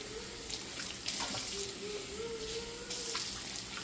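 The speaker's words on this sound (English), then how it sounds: "So we will do one final go with just plain hot water as a final rinse." Hot tap water runs steadily into a sink for a final plain-water rinse of goat milking equipment, a continuous close hiss and splash with small surges and no speech.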